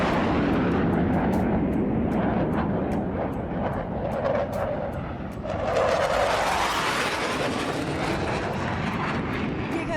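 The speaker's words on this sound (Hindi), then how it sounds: "सबसे खतरनाक, सबसे डेंजरस फाइटर जेट Su-34" A Russian Su-34 fighter jet roars loudly and continuously, with a harsh engine rush that swells and shifts as the aircraft passes.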